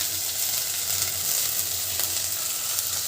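Greens added to onions fried until brown crackle and sizzle loudly in a hot pan, a steady, close hiss that holds for the whole stretch with no talking.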